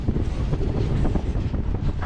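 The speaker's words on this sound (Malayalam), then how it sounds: "ഇപ്പോൾ ട്രെയിൻ പോയിക്കൊണ്ടിരിക്കുന്നത്" A passenger train running from Banihal toward Srinagar in Kashmir, past flat paddy fields, gives a steady, close rumble of wheels and carriage noise, with wind buffeting the microphone throughout and no talking.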